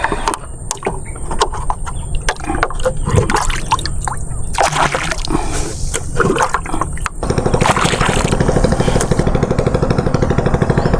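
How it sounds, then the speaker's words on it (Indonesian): Water being bailed out of a small fishing boat at a river mouth, with repeated close scooping, sloshing and splashing knocks in an irregular rhythm, loud and busy against waves. "Udah penuh air mas bro. Nguras dulu kita."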